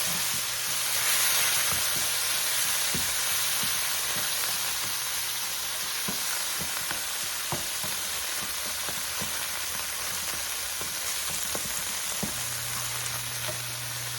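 Chicken cacciatore simmering in a pan with about a quarter cup of white cooking wine, a steady soft sizzle and bubbling with faint scattered clicks throughout.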